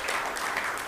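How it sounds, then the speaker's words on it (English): Audience applause fills a church sanctuary during a service, a steady dense wash of many hands clapping at even loudness throughout, with no voices over it. "Let's have a big round of applause for our children's church volunteers."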